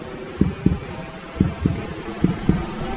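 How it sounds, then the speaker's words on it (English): Synthetic heartbeat pulses inside a Mercedes Vision AVTR concept car, sounding as three evenly spaced double thumps, low and soft, over a steady cabin hum with no talking. "You hear that? Little heartbeat."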